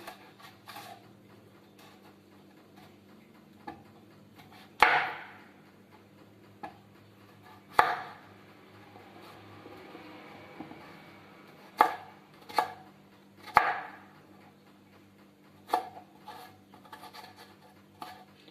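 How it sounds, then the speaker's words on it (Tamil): Potatoes diced small with a knife on a board for vegetable kurma, scattered sharp chopping thuds spaced irregularly, close and clear over a quiet background with no talk. "இப்போ வந்து உருளைக்கிழங்கு கட் பண்ண போகிறோம்"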